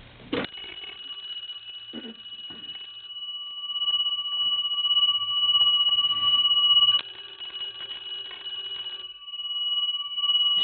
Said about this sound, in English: we're going to ring the bell.